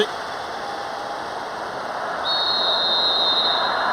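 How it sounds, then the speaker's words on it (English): Referee's whistle in the PES 6 football video game on PS2, marking the end of the first half of an AC Milan versus Inter Milan match: one long steady blast that starts partway through and holds to the end over constant crowd noise. "There's the whistle for the end of the first half."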